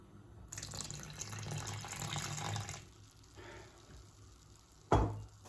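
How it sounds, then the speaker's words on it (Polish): Sparkling water pours into pancake batter in a bowl, a faint fizzing, gurgling stream for a few seconds, followed by a short knock. "Woda gazowana."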